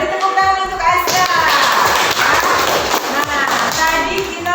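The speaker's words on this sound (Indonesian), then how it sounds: "Beri tepuk tangan untuk Azka." Classroom of students clapping for a classmate, a dense, close burst of rapid, uneven hand claps sustained throughout, with children's voices mixed in.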